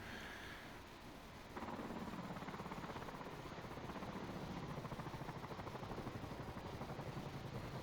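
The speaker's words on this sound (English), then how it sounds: "I think I can hear a helicopter." A helicopter in the Falcon BMS flight simulator, its rotor chopping as a fast steady thudding pulse that swells in abruptly and continues under engine drone and wind.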